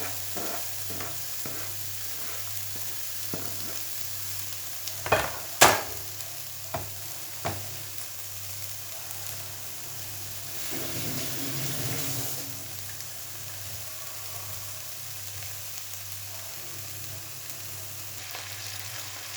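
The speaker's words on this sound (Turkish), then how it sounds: "Önce bunu kavuralım." Soft, continuous sizzling of zucchini and bulgur sautéing in a pan, with a few sharp clinks and scrapes of a utensil stirring, fairly quiet throughout.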